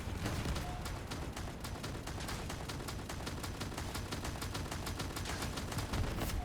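Shredder shotgun in the vehicle combat game Crossout, firing continuously with the trigger held: a dense, rapid stream of loud blasts at a steady rate, running without pause over a constant mechanical roar.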